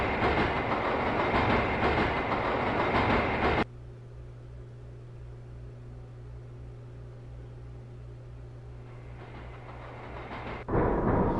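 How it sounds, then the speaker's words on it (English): Train noise inside a station at a mass production center: a loud broadband rush gives way to a steady low rumble and hum for several seconds before the loud rush returns, with no talking. "Train is leaving."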